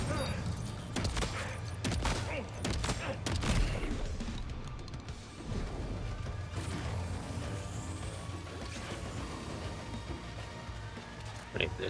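Gunfire in the video game The Kojima Cinematic Experience: scattered sharp shots and crashes over a dense, noisy background of game action, with a brief lull midway before the clatter continues.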